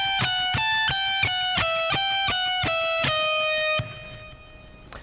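A speed-soloing guitar lick played fast on electric guitar, a rapid run of sharply picked notes descending across the fretboard, steady and loud, the last note ringing out and fading alone.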